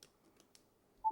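A live-coded Sonic Pi synth note with a small, dry reverb room (size 0.1) sounds as a short, loud tone near the end, after a few faint ticks over near silence.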